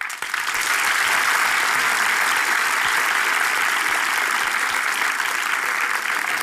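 Audience applause at a live Turkish stage talk show, a dense sustained clapping from a large crowd that starts sharply and holds at an even, loud level throughout.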